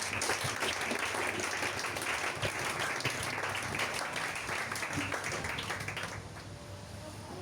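A church congregation applauds Jesus during a French-language sermon, with sustained, dense clapping that holds steady for several seconds and then thins slightly near the end.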